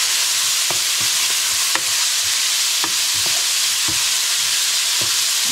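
Noodles with chicken and soy sauce stir-frying in a hot pan, with a loud, steady sizzle and irregular utensil knocks and scrapes up close, no talking.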